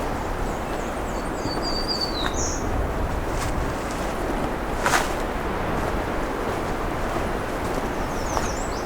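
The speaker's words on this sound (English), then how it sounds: "It's got a little windy here." Steady broadband wind rushes through the whole stretch, with faint bird chirps and calls drifting above it now and then.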